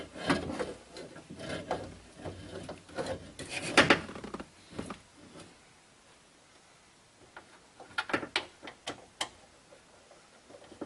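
Bolts being fitted and tightened in the driver's front door of a 2002 Chevrolet during a power window regulator and motor replacement, with irregular clicks, ratcheting rasps and knocks in clustered bursts, fairly close and without speech.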